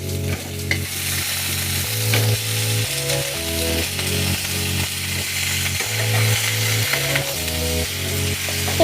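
Boiled potatoes frying and stirred in a pan with Maggi masala, steady loud sizzling broken by repeated scraping strokes of a spatula, heard close with no voices.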